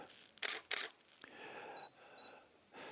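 A camera shutter fires during a studio portrait shoot: two sharp, close clicks in quick succession, followed by softer mechanical whirring and rustling in a quiet room.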